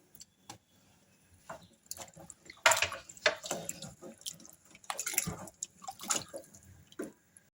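Chicken feet being swished and rinsed by hand in a bowl of warm water, with soft splashes and drips coming in irregular bursts, close and fairly quiet with pauses between them.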